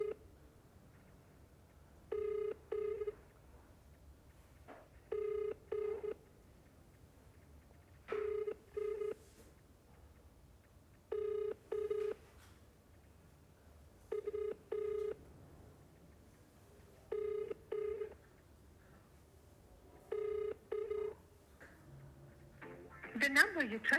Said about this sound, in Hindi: मैं दोबारा कॉल कर लेता हूँ।